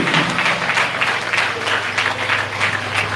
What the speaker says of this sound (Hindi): क्यों ना जोरदार तालियों के साथ परमेश्वर का धन्यवाद, जोरदार तालियों के साथ